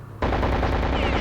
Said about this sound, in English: Luckily we have the MP40.